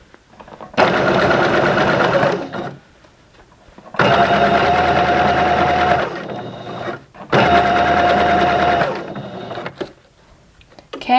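A home sewing machine stitching a leotard runs in three loud, steady bursts of rapid mechanical whirring, each lasting about two seconds, separated by short quiet pauses.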